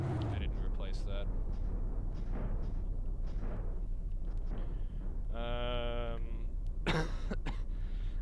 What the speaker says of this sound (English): Sorry if I cough a lot, I'm still sick.